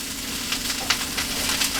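Garlic sizzling in a hot pan for a duck egg roll dish, a steady close frying hiss with small crackling bursts throughout, no voices.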